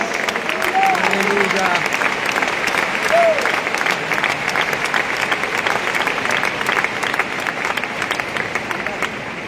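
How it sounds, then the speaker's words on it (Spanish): Congregation applauding during an afternoon service at a district church convention, a dense, steady wash of clapping that fills the room for the whole stretch, with faint voices mixed in underneath. "después de que usted le dé ese aplauso al Rey de Reyes, al Señor de Señores"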